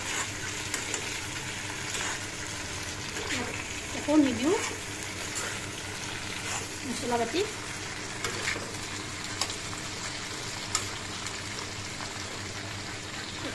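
Pointed gourd and potato dry-frying in a pan give a steady, soft sizzle with occasional stirring scrapes, while a voice speaks intermittently over it.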